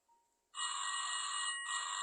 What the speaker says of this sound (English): Here we need to approach the ringing telephone and pick up the receiver.